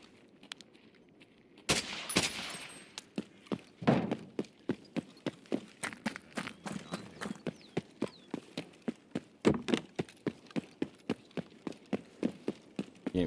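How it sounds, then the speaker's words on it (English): Gunfire in a video game raid on a map with labs and streets, heard as a long run of sharp, evenly paced loud cracks after a quiet start, with no talk. "I've been hearing a lot of gunshots around me,"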